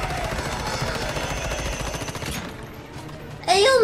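Submachine gun firing in the video game Once Human, a fast continuous rattle of shots for over two seconds that then stops, followed by a brief burst of voice at the end.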